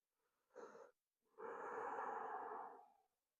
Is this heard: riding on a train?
no